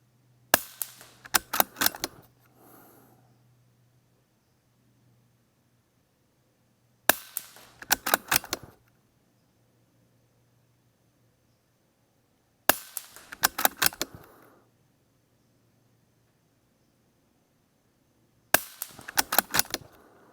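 Integrally suppressed Ruger 10/22 rimfire rifle with an AB suppressor fires four outdoor bursts of sharp, fairly muted cracks, each burst a quick cluster of shots separated by several seconds of near silence.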